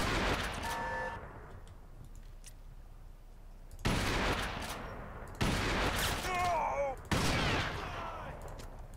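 Gunfire in the video game Crysis: rapid automatic bursts crack out in several loud volleys, each followed by a fading echo, with faint voices in the background.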